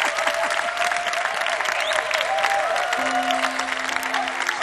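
Audience cheering and applauding at a live concert, a dense, loud continuous wash of clapping with crowd voices and a sustained tone running through it.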